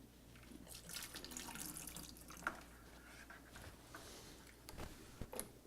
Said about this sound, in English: we've got the beer flowing into the brew pot